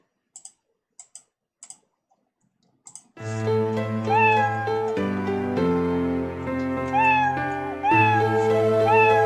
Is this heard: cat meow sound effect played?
yes